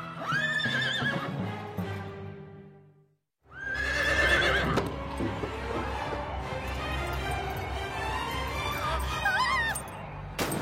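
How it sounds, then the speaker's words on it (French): Horse neighing and hoof clip-clop in a video game set at an equestrian course, with loud whinnies at the start and again after a brief silence, over steady galloping hooves and background music. "Rosa Rodriguez sort des limites du parcours avec son cheval"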